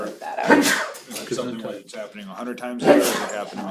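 A single sneeze bursts out during a school board meeting, landing between stretches of discussion and followed by a second sharp burst, with people speaking around it.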